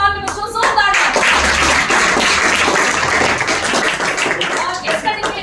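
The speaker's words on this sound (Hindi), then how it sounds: "गुरुजन उनके सम्मान में बच्चों जोरदार तालियां" Children at a school competition event clap loudly in honour of their teachers, a dense, sustained burst of applause filling the room with voices mixed in.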